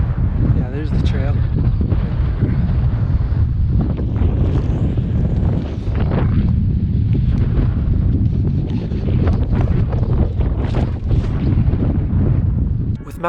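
Strong, continuous wind buffets the microphone on a rocky mountain peak on a Colorado 14er, a loud, roaring rumble throughout, with a voice talking faintly beneath it.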